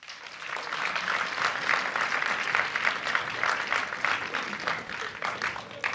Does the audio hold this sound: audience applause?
yes